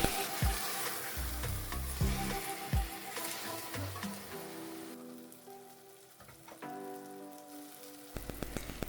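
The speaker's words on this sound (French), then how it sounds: "Je vais laisser frire et légèrement dorer avant d'ajouter ma" Onions and leek fry in a pot with a dense, rain-like sizzle and stirring knocks that thin into a quieter crackle partway through.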